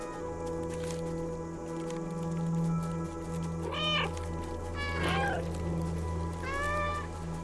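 A cat in the video game Stray meows three times over a steady hum of game music and ambience. The meows are clear and fairly near, rising and falling in pitch.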